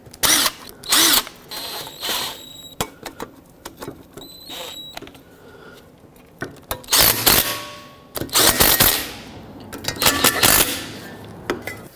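Short bursts from a power tool snugging three 10mm bolts on a backing plate during ball joint work on a 2007-2010 Chrysler Sebring, with several loud whirring runs separated by clanks and pauses.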